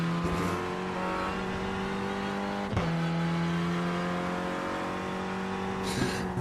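A race car engine in the iRacing simulator on the VIR North circuit, a steady loud droning hum with a brief shift or bump partway through, continuous and close with no talk over it.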